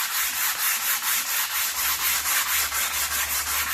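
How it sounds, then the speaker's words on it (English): Hand sanding wood with 220 grit sandpaper to remove 120 grit lines, a close, steady rhythmic scratching of back-and-forth strokes, about three per second, heard alone without talk. "removing the 120 grit sanding lines with 220 grit"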